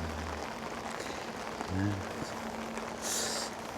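Steady rain falls at a riverside campsite on Yangseom island in Yeoju, a soft continuous hiss with a few faint low thumps and a brief brighter patter near the end.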